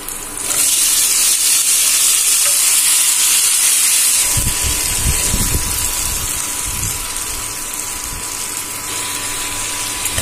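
Potatoes dropped into hot oil with bay leaves set off a loud, steady steaming hiss that lasts throughout, with a brief rumble of bubbling and splashing as they go in partway.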